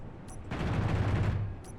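A fully automatic pistol fires a quick burst in the Space Engineers video game, its rapid shots blurring into a dense rattle for about a second, with faint clicks before and after.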